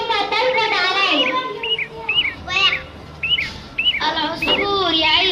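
Short bird chirps ring out in a series of bright, separate calls over a backdrop of children's talking voices, matching a sparrow chirping near its straw nest in the trees.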